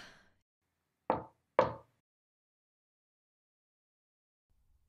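Two sharp knocks on a door, a half-second apart, ring out close and clear in a quiet room during an audio drama, followed by silence.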